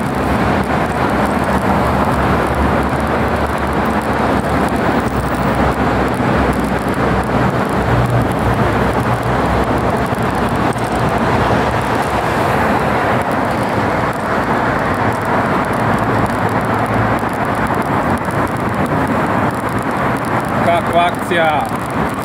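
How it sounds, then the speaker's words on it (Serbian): A car drives through the old Straževica road tunnel toward Resnik, with a loud, steady rumble of engine and road noise and a windy roar that fills the enclosed space without a break. "Vidite kako se čuje auto kad uđe u tunel."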